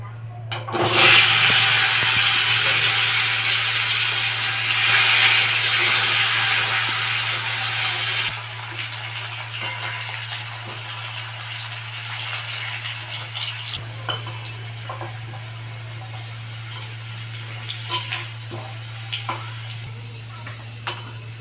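Long-cut potato strips frying in oil in a pan, a close steady sizzle that is loudest early and later eases, with occasional stirring clicks and a constant low hum underneath.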